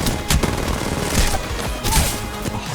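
Dense, loud gunfire from the video game Apex Legends, sustained bursts of rapid shots with a couple of heavier volleys, close and continuous throughout.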